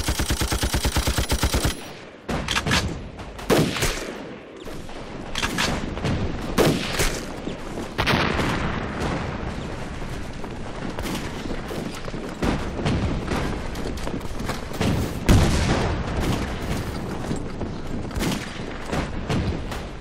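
Heavy gunfire rattles through a war film battle scene set during the Red Army's forced crossing of the Wujiang River: dense overlapping shots and rapid bursts in loud volleys, with a few short gaps, for about twenty seconds.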